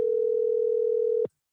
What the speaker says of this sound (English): Now I can hear the phone ringing.